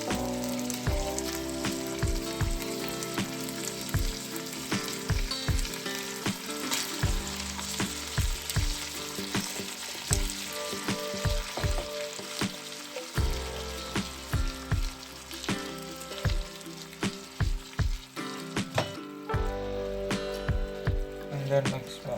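Ginger pork noodles stir-fry in a pan, a steady sizzle with frequent light clacks and scrapes of gentle mixing running under background music.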